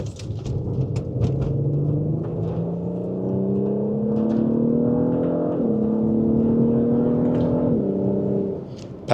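Engine of a BMW X3 M40i or Audi SQ5 SUV with S Sport package, heard from the cabin, rising steadily in pitch through gears as paddle shifters click through quick changes on a curving road; loud, continuous, with no voices.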